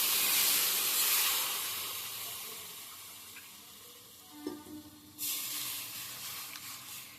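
Water poured into a pan of lightly roasted semolina brings a loud hiss at first that fades, then a brief burst of bubbling and sputtering before a renewed steady hissing sizzle.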